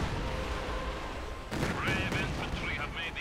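Dense bursts of gunfire and explosions from a Katyusha rocket barrage in a Company of Heroes 2 battle, loud and overlapping throughout.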